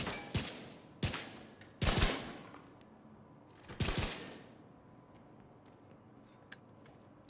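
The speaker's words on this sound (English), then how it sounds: "So, it is doing the explosion on the first merge." Explosion effects from a video game merge, four sharp booming blasts spaced unevenly over several seconds, each with a short decaying tail, then quieter faint clicks.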